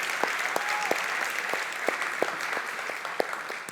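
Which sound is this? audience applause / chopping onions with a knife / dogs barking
audience applause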